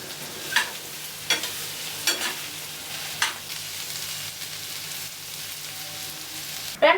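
Spiny gourd fries in a pan with turmeric, ginger and garlic paste, giving a steady sizzle throughout, broken by several distinct scraping stirs of a spoon against the pan and a clatter at the end.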